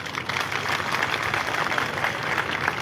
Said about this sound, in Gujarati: આપણે ફરી વખત એમના તાળીઓના ગડગડાથી સન્માન કરશું